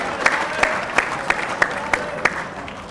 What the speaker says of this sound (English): Yeah, a round of applause.